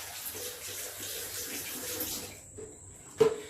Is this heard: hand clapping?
no